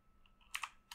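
Someone types on a computer keyboard, a short faint burst of a few quick key clicks.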